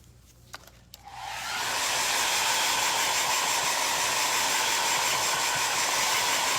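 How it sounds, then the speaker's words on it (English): A hair dryer blowing on fresh milk paint starts up after a few faint knocks, rising within a second to a loud, steady, close rushing whoosh that continues unbroken. "Now, I'm going to hit this with a hairdryer again."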